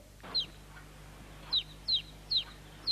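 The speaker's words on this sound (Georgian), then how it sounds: "აბუზული წიწილა წივის" Chick cheeping close by, five sharp high peeps, one early and then four in a quick run, against a quiet background.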